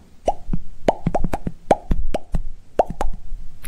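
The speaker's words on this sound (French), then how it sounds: "le poisson rouge monte à la surface de l'eau et ouvre plusieurs fois la bouche avec un petit bruit à peine perceptible" A goldfish rises to the water surface and opens its mouth repeatedly, making a series of small, close, irregular pops and plops over a quiet background.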